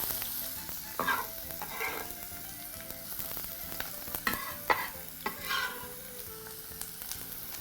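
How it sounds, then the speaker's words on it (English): Onions and garlic sautéing in oil in a pan: a constant sizzle with occasional louder scrapes and bursts of crackle as they are stirred, nearby and without talk. "proceed to saute your onions and your garlic"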